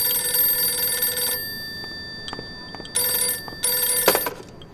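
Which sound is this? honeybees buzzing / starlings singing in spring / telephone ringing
telephone ringing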